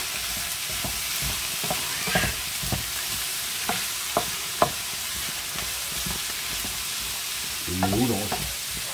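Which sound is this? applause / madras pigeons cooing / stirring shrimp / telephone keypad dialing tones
stirring shrimp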